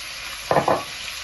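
Onion, chickpeas and spices fry in a pan while being stirred, two quick scraping stir strokes over a steady, close sizzle.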